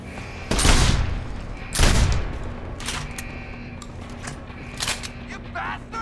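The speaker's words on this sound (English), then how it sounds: "Suppression fire!" Gunfire in the video game Deus Ex: Human Revolution, two loud close bursts of rapid shots followed by scattered fainter single shots, with shouting voices between.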